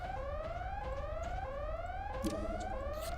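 A repeating alarm in the Xenosaga Episode 1 video game, with rising, sweeping electronic tones cycling steadily over a low background hum and continuing without a break.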